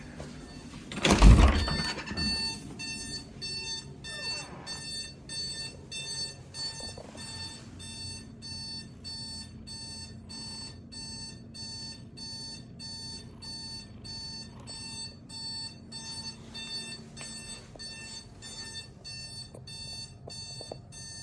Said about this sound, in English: Did you not hear the alarm?